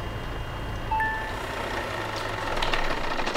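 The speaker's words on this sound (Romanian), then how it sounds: "Oprim motorul." A truck engine idles in Euro Truck Simulator 2 with a low, steady rumble close by, and a couple of short electronic tones sound briefly near the start.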